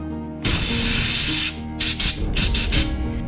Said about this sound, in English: I'll start by giving this a final clean.